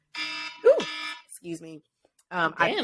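A phone alarm goes off in loud, repeating harmonic tones, broken by short gaps, with people talking over and between the bursts.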